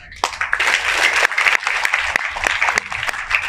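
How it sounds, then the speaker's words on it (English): An audience at a classroom-style training session applauds, a dense, steady burst of many hands clapping close by for several seconds without pause. "Give yourself a round of applause."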